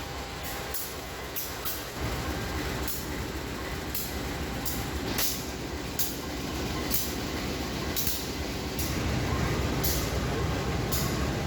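A CC 203 diesel locomotive train rolls past with a loud, steady rumble and regular clicks from the wheels on rail joints, lasting throughout without talk.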